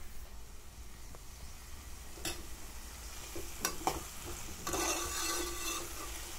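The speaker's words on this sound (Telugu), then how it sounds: "మంచిగా ఫ్రై అయిన తర్వాత ఆలుగడ్డలు మంచిగా ఉడకాలండి. ఆయిల్లోనే మగ్గిపోవాలి." Potatoes and ridge gourd frying in oil, with a soft steady sizzle and a few sharp scraping stirs of a spoon against the pan, the sizzle swelling briefly near the end.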